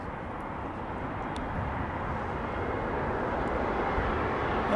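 Broad, steady jet roar from a Lufthansa airliner at London Heathrow Airport, rising slightly over the seconds and heard alone without voices.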